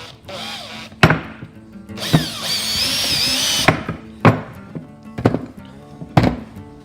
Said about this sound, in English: then I can just screw them in with 1 hand